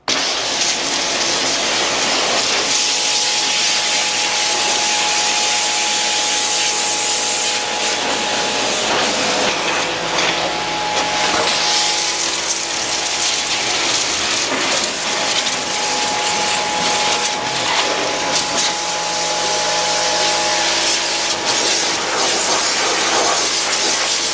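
A Giraffe Tools air compressor runs steadily and loudly for the whole stretch, a continuous hissing, motor-driven drone with no talking over it.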